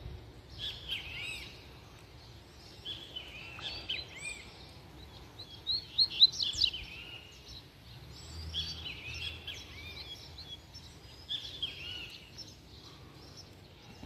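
Wild coleiro seedeaters chirp and trill in short bursts, thin and fairly faint against quiet outdoor background, with a louder cluster midway and no talk.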